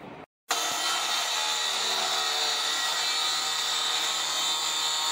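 A power saw cuts a wooden board to depth for a truck bed platform, starting after a brief silent pause and then running as a loud, steady high-pitched whine with rasping cut noise that holds to the end.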